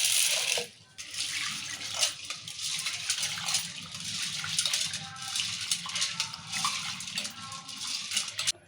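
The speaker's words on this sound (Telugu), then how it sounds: "నీళ్ళు పోసి కడుకుందాం" Water runs and splashes over chana dal being washed in a vessel, a loud continuous rushing and sloshing with some rattling of the lentils, after a brief quieter moment at the start.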